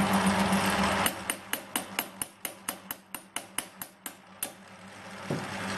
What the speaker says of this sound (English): If it's spinning, and you tap on it gently, you don't beat the shit out of it